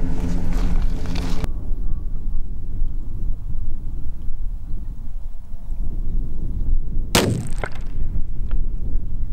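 A single 6.5 Grendel rifle shot firing a 100 grain Nosler Partition at a 400-yard range target cracks sharply late in the clip, following a long stretch of steady outdoor wind rumble.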